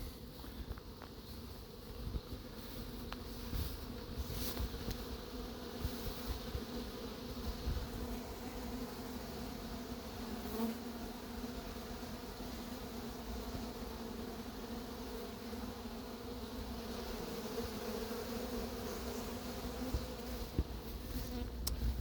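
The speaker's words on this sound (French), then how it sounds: "Les abeilles de cette ruche sont un peu vives" Honeybees buzz around a hive in an apiary, a dense, continuous drone of many bees close by with individual bees flying past, steady throughout and with no voices.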